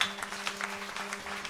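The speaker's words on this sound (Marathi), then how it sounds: "त्यांच्याकरता जरा टाळ्या वाजवा" Audience clapping at a devotional kirtan gathering for the Shri Shyam Baba death-anniversary festival in Balapur, a steady, fairly soft patter of many hands over the low hum of a sound system, with no talk.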